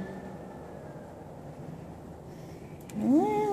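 A cat at a zoo lets out a single rising, wailing meow near the end, heard over a steady background rumble of ambient crowd and outdoor noise.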